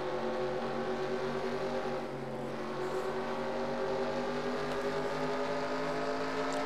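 A stock race car's engine drones steadily from a roof-mounted camera, a continuous, even mechanical roar with a muffled, wind-blown quality and no talk.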